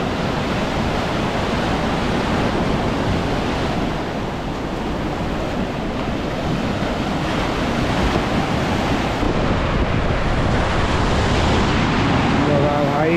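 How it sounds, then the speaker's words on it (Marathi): Sea waves crash steadily on a beach in Kochi near Chinese fishing nets, a continuous loud roar of surf with wind buffeting the microphone. "पाण्याची लाटा बघा काय भारी येत आहेत भाई"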